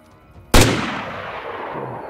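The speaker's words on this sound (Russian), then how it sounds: "Вот он стрелял по мне только что." A single loud, sharp gunshot in the video game DayZ Standalone cracks out and rings into a long fading echo, with no voices around it.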